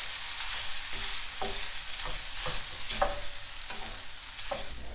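Pea puree cooking in a pan gives a steady low sizzle with a series of soft, evenly spaced stirring scrapes on top, close and alone with no talk.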